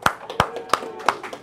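A few people clap in a classroom, five crisp, separate claps at a steady, even rhythm. It is a short, light round of applause with no talk.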